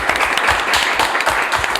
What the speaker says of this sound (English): A big round of applause for the amazing support team that we've got running around